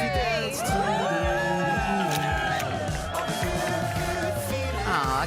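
A studio audience at a morning TV show cheers and whoops loudly, a dense sustained crowd roar with shouted voices rising above it throughout.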